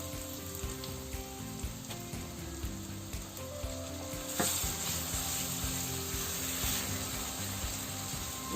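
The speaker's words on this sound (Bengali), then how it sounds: "মশলাটা আমি এভাবে নাড়াচাড়া করে কষিয়ে নিচ্ছি" Blended onion and spices fry in a pan for a Bengali hilsa korma, giving a steady close sizzle with scraping stir strokes throughout and no talking.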